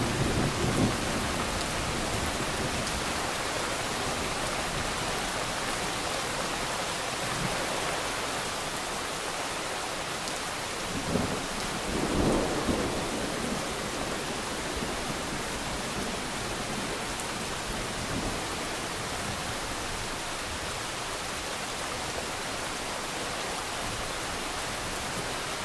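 Steady rain pours down in a dense, hissing wash, with a low rumble of thunder rolling through partway in and no voices.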